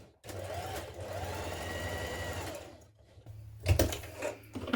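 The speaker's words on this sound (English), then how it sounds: "we're going to stitch the lower edge with the seam allowance" A sewing machine stitches the lower edge of a trouser zip guard in one close, steady run of about three seconds, followed by fabric handling and a brief bump.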